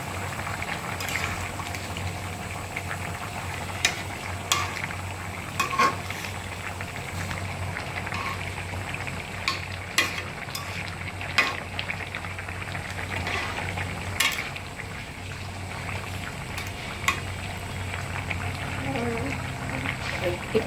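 Bottle gourd and rohu fish curry bubbles and simmers in a pan over fairly high heat, making a constant soft hiss with a few faint clinks from stirring.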